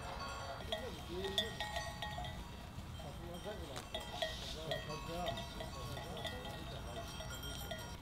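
A grazing flock of sheep with cowbells clinks and clanks irregularly in the open, with scattered faint bleats and people talking at a distance.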